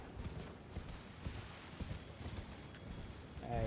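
Horse hooves clip-clop steadily in Elden Ring: Shadow of the Erdtree, a continuous rhythmic trot at low level under a dense game soundscape, with a louder swell at the end.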